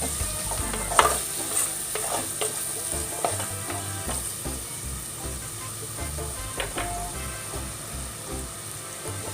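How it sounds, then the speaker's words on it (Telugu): Onion and green chilli sizzle in a pan with a little turmeric while a spoon stirs them, soft scraping strokes recurring over a steady close frying hiss, with no talking. "ఒక 5 minutes ఆ ఉల్లిపాయ పచ్చిమిర్చి మెత్తబడినాక వేగనిద్దామండి."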